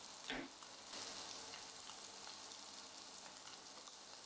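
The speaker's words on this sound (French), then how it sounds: "je commence à arroser les Saint-Jacques avec le beurre noisette" Scallops sizzling in brown butter as they are basted, a soft, steady frying hiss with a brief clink near the start, quiet and without voices.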